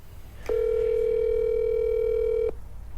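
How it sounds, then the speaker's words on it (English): A telephone dial tone sounds as a call is placed, a steady, clear hum lasting about two seconds that starts and stops abruptly over faint background noise. "Derek makes a phone call to Nolan's twin brother Miles to check in on their progress"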